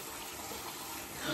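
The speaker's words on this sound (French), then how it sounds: "je me rince les mains à l'eau chaude" Hot tap water runs steadily over hands being rinsed at a sink, a soft continuous splashing close by and at even volume, swelling slightly near the end.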